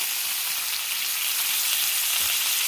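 Wagyu and Angus top sirloin steaks sear in an oiled pan, producing a loud, continuous, even sizzle heard close up with no talking.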